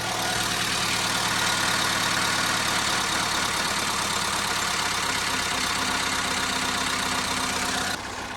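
A car engine runs at a steady idle with its crankshaft spinning while the alternator belt stays still, a loud, even mechanical rumble heard close up without a break until it drops off sharply near the end.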